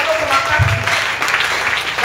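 A church congregation applauds and cheers in praise of Jesus, a steady wash of dense clapping with a voice briefly rising through it.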